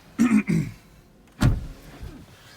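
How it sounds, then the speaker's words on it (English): A McLaren 720S Spider door is shut. Two or three soft bumps come first, then one solid, close thud, with low cabin noise afterward. "and close the door."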